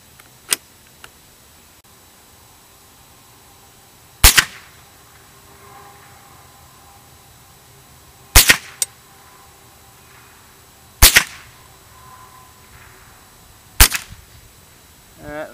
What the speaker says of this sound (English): it's the Winchester M22